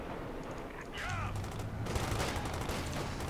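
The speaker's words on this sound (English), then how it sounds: "some machine guns up on the Rangers" Machine gun fire in the Company of Heroes 2 strategy game, a dense crackling fusillade that grows louder and busier partway through, mixed with other battle noise under a background of game sound.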